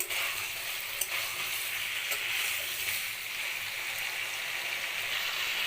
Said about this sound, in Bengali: পুরো পাঁচ মিনিটের মতো মাংসটা তেলের মধ্যে দেওয়া হয়েছে